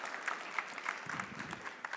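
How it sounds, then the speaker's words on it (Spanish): An audience applauds a volunteer named Emiliano at a neuroscience-of-learning talk, a short burst of soft, fairly distant clapping from a crowd. "Emiliano, un aplauso para Emiliano"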